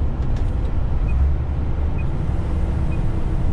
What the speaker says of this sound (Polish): Chcecie sobie posłuchajcie samochodu